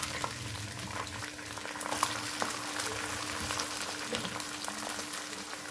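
Green chickpeas fry in a pan for pulao, a steady, quiet bubbling sizzle with scattered faint pops running unbroken throughout.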